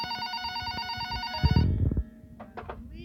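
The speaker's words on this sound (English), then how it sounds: "the phone on the counter rang." A telephone on a shop counter rings with a steady electronic trill, then cuts off into a brief clatter and a few faint knocks.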